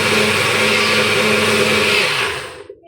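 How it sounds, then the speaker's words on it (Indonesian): A kitchen blender runs at full speed, a loud steady whirring motor with a bright whine that holds for over two seconds, then winds down and cuts off abruptly, with no talking. "Nah, sekarang kita mau blender."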